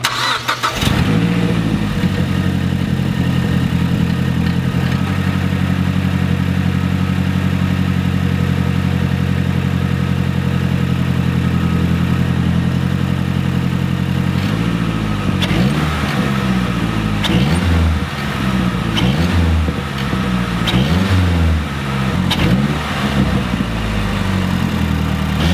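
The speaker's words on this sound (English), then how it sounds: "We're going to fire it up and hope I did nothing wrong" A diesel truck engine with an EGR delete cranks and catches, then idles steadily with a low rumble before a few revs swell and fall near the end.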